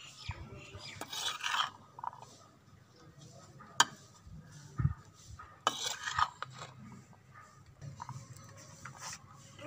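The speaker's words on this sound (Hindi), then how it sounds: "अब इसको अच्छी तरह मिक्स करेंगे।" Chana chaat ingredients get mixed with a spoon in a bowl: intermittent scraping and clinking strokes, soft to moderately loud, with a few sharper knocks, fairly close with no talk.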